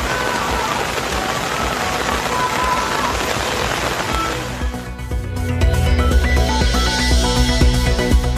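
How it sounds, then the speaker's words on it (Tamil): Heavy overnight rain on Tirupati hill falls as a dense, steady roaring hiss for about five seconds, then gives way to a tonal musical passage. "திருப்பதி மலையில் விடிய விடிய வெளுத்து வாங்கிய கனமழை."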